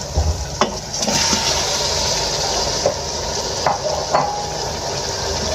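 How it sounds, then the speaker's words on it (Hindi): Mutton and ginger-garlic paste fry in a pot with a moderate steady sizzle, broken by a few sharp clinks of a utensil stirring against the pan. "अब हम इसके अंदर ऐड करेंगे अदरक लहसुन का पेस्ट, इसको भूनेंगे हल्का सा और साथ ही हम इसके अंदर ऐड कर देंगे मटन।"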